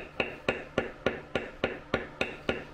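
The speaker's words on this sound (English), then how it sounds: "I'm going to take it and I'm going to bevel that same line again" A hammer strikes a checkered beveler tool on leather in a steady rhythm, ten crisp, close taps about a third of a second apart, moderately quiet with no talk.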